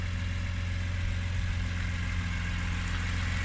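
BMW S54 3.2-litre inline-six from an M3, swapped into an E46 Compact, idling steadily with a low, even, continuous hum and no voices.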